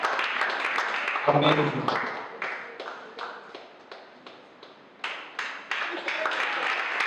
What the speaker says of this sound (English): Thank you for the standing and clapping ovation